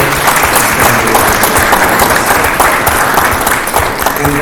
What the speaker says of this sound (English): let's have another round of applause for Mr. Russo.